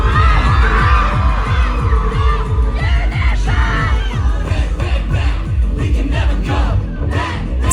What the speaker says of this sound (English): and then I caught the fan chant.